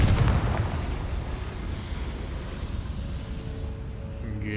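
A Confringo blasting spell explodes in Hogwarts Legacy, a loud booming burst at the start that rumbles and decays into a sustained low roar, with faint tonal game sounds near the end.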